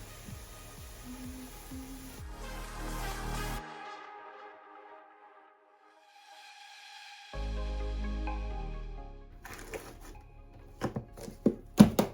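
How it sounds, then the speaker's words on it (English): A knife chopping potatoes into cubes on a board, a run of quick close taps, then a quiet pause and a low hum, ending with a few sharp separate chops. "let's get on with cutting the spuds"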